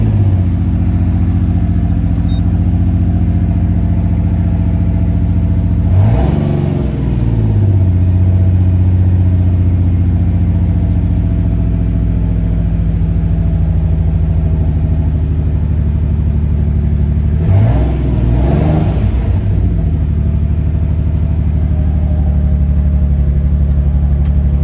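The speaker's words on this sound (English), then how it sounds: "The car is very obviously misfiring right now." A Mitsubishi 3000GT VR4 engine idles roughly and unevenly with a steady low rumble, broken by two sharp revs, one near the start and one later, each stumbling and misfiring before settling back to the ragged idle.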